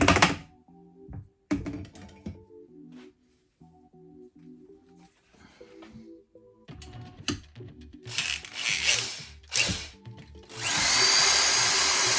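A power drill spins to stir honey into mead must, whirring in several bursts of varying length, with the longest and loudest run at the end.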